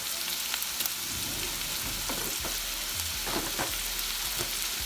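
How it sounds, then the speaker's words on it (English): A steak sears in a hot pan for a home-made diner-style breakfast, giving a dense, even sizzle throughout with a few soft knocks and shuffles as it is handled. "I'm gonna make sure it gets a good sear on each side."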